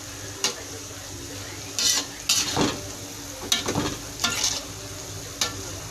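Shallots dusted with flour fry in hot oil for crispy fried shallots, a constant sizzle broken by several distinct bursts of a utensil scraping and stirring through the pan.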